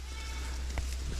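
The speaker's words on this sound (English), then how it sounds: "Oh, bloody goats." A goat on a farm in the Philippines lets out a single short bleat over a constant low hum and background noise.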